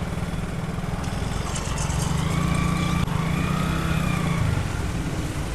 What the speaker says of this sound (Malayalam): compactor work ആരംഭിക്കട്ടെ